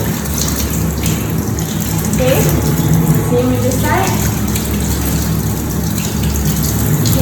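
Tap water runs steadily from a faucet as hands and arms are rinsed during a surgical scrub, a constant gushing splash under a brief spoken instruction.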